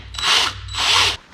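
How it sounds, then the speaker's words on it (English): A power drill bores into a broken bolt in two sustained, loud whirring bursts, one right after the other with a brief dip between them. "We'll go ahead and drill this until I break it off in there"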